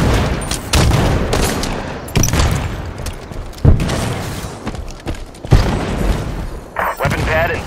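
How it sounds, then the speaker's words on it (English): Halo 5 multiplayer firefight with gunfire bursts and a heavy grenade blast, dense and loud throughout, with sharp thumps standing out amid continuous shooting and speech-like game voices. "Enemy grenade!"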